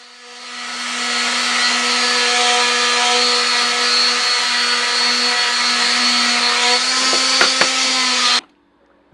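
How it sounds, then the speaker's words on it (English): A power sander works over wood pieces for a workshop jig storage rack with a loud, steady whine for about eight seconds before cutting off abruptly. "I'm just going to give it a quick sand and get rid of some of those hard corners."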